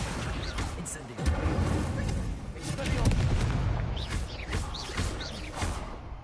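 An Incendio fire spell cast in Hogwarts Legacy bursts out in a series of whooshing, crackling blasts, loud and close, with a person talking over the effects.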